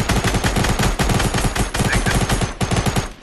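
Assault rifle gunfire in Fortnite during a squad fight, loud rapid automatic bursts firing almost without pause, close and dominant throughout, with no talk.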